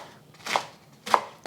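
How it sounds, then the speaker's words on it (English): Two crisp knife strokes through cabbage hit a cutting board, with a lighter third tap just after. The cabbage is being shredded for a hot and sour soup, and nobody talks. "I'm just going to shred this as well."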